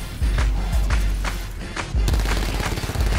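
Spitfire submachine gun in Call of Duty: Black Ops 4, firing in quick bursts over a low rumbling game backdrop, with thumping impacts mixed in; near and moderately loud, no talking.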